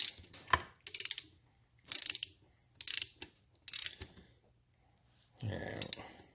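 Ratcheting clicks from a torque wrench tightening fasteners on a motorized bicycle engine, coming in several short close bursts with pauses, followed by a louder scrape near the end.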